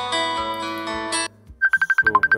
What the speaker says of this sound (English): So this was the notification sound, and you have option to change your caller ringtone also